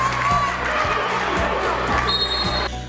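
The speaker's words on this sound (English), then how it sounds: "the crowd goes crazy" A basketball arena crowd roars and cheers after a made shot with the game winding down, a dense loud wall of voices with squeaks and a few thumping bounces beneath, cutting off abruptly at the end.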